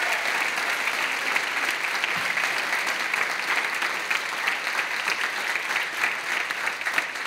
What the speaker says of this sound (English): So can we give a round of applause to our parent board and volunteers?